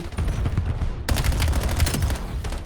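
Rapid gunfire from a Call of Duty esports match, dense bursts of automatic shots that turn sharply louder midway and keep crackling in quick succession, close and aggressive with no talk over them.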